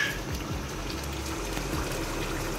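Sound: pouring water into frying masala for lauki kofta gravy

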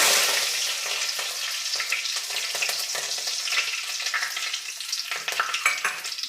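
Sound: mustard seeds and curry leaves sizzling in hot oil

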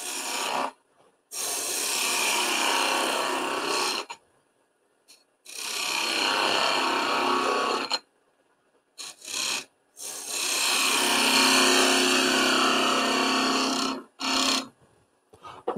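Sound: skew chisel cutting wood on a lathe

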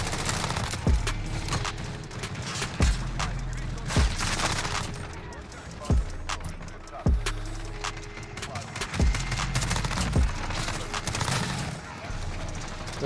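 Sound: gunfire shooting something down in the video game Modern Warfare

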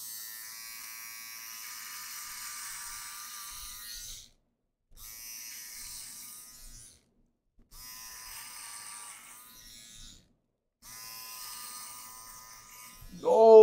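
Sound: electric razor shaving a beard

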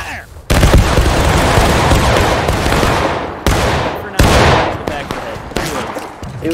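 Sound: musket volley firing in video game War of Rights

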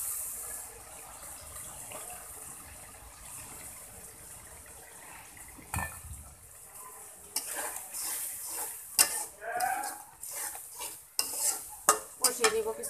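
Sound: shrimp and green chilies stir-frying with spices

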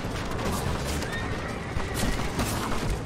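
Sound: horses neighing in the video game Red Dead Redemption

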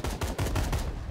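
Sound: barrel explosion effect in Core game editor

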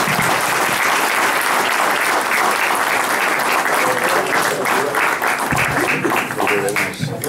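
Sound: audience applause at press presentation

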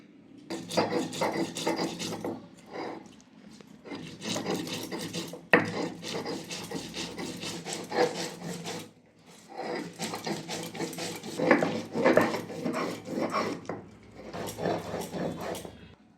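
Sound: black and white mustard seeds being ground into paste

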